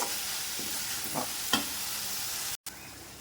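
Onions and tomatoes sautéing in a pan for an egg kuzhambu, a steady hissing sizzle with a couple of brief spatula scrapes and a momentary cut near the end.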